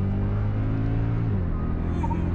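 A Mercedes AMG engine drones deep and throaty from inside the car under acceleration in third gear, a loud steady rumble whose pitch shifts slightly partway through, with a voice briefly audible.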